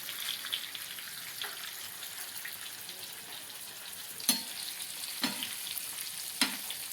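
Tilapia and catla fish coated in rava sizzle on a hot tawa, a steady close frying hiss broken by a few sharp pops and spatula clicks.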